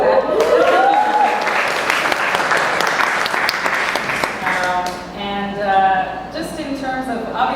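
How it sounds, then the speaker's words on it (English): An audience at a panel event on music and the Asian diaspora breaks into loud, dense applause that fades out after about five seconds, followed by a voice speaking. "And yeah, you can clap."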